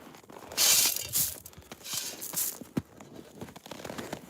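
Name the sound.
goats running in, hooves clattering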